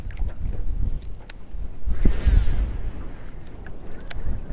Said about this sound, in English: The wind's brutal.